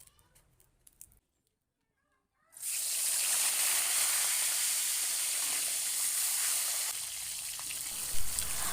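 Food, fried only half-done, sizzles in hot oil in a pan. A sudden, steady hiss rises after a quiet start and stays close and loud, with a faint crackle and a small bump near the end.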